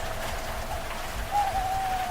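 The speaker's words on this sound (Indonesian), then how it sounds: "Hujan semakin deras dan kabutnya pun semakin tebal." Heavy rain falls steadily in a mountain forest on Gunung Salak. The dense hiss is loud, even and close, with a faint tonal hoot near the end.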